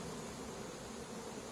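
Honey bees at an open hive give a steady, faint, dense buzzing drone with no breaks and no voices.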